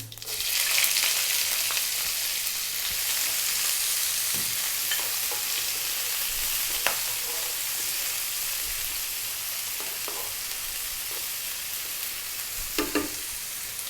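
Onion hitting hot oil with black mustard seeds and fennel for a lamb bhuna curry, a loud, dense continuous sizzle with a few scattered stirring knocks, close up with no voices.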